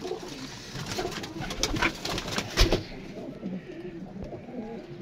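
Pigeons from a long-kept family breed cooing nearby, with soft overlapping calls, wing rustles and a busy outdoor background that thins out toward the end.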